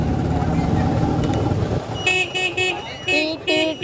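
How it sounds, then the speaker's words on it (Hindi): An LML NV scooter horn honks four times in short, bright beeps, close and loud, following a stretch of engine rumble and talking. "मैं बोल रहा हूँ गाइस इसके हॉर्न में भी आवाज़ आती है।"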